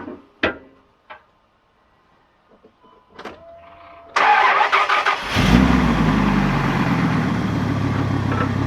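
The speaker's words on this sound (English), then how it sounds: "I'm gonna go start the truck" A Dodge truck with a weak charging system cranks and starts, the engine catching after about a second of starter whir and then settling into a steady, loud idle, preceded by a few faint clicks and knocks.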